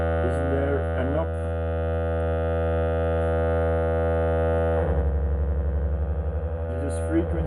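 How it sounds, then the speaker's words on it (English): A vintage patchable synthesizer holds a steady harmonic tone, then frequency modulation switches in and sets the pitch wobbling in a fast warbling vibrato; steady and loud throughout, with no voices. "This is frequency modulation."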